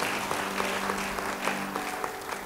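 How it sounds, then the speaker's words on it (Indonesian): Steady applause from a church congregation at a sermon, dense and even throughout with a faint hum beneath and no voices. "beri tepuk tangan bagi dia"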